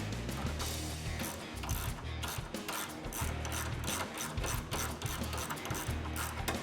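A 10mm wrench ratchets steadily as grille brace bolts are tightened on a 2009-2014 Ford F150, a close, continuous run of rapid metallic clicks with no talking.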